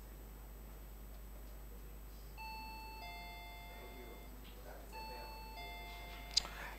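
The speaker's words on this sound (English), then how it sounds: "Let me hear the bell from Accra Technical University." Quiz buzzer bell rung by a school team at a contest, bright electronic ding tones sounding in two separate bursts of stacked notes over a faint room hum, fairly soft, with a short click near the end.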